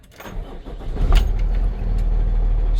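Cummins B6.7 diesel in a 2020 Freightliner M2 cranks briefly and catches, then settles into a loud, steady rumbling idle, heard up close with no talking.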